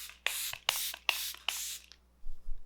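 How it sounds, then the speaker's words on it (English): Charlotte Tilbury setting spray is misted onto a face in four quick, evenly spaced hissing sprays, close and fairly quiet, followed by faint handling noise. "And then they say to use a setting spray."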